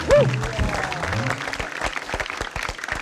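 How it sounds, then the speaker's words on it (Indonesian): A studio audience at a comedy quiz show applauds for the comedian Mas Pepeng, scattered rhythmic clapping building after a brief burst of voices and laughter at the start. "Hadirin tepuk tangan buat Mas Pepeng"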